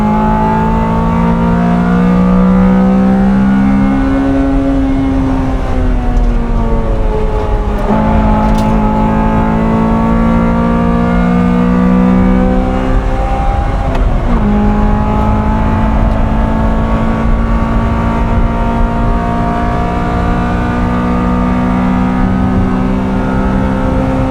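Honda Civic Type R EK9 engine revving hard at the Nürburgring, a loud, steady high-pitched wail that climbs through the gears with brief drops at each shift, sustained and close throughout.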